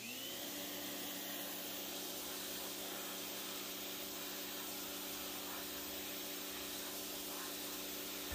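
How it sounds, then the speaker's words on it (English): Pressure washer spraying river agates from the Nehalem River, a steady loud hiss with a constant motor drone running unbroken from start to finish, no talking. "we'll get all those nooks and crannies with the pressure washer, which is right here and ready to go"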